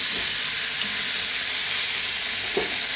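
Canned tomatoes being broken down with a spoon in a hot pan alongside canned mackerel, giving a steady close sizzle and hiss with a couple of soft spoon scrapes and no talk.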